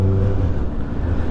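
Kawasaki ZXR motorcycle engine ridden gently at low revs gives a steady, deep, throbbing hum, loud and close, without rising or falling.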